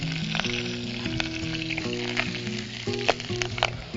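Fresh bay leaves and green chilies frying in hot oil, giving a steady crackling sizzle with scattered pops, heard alongside sustained tonal background music.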